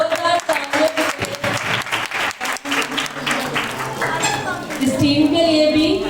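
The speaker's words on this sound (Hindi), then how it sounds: "जोरदार तालियां" A crowd at a Christmas quiz program breaks into steady, enthusiastic applause, the clapping continuing for several seconds before fading under a voice.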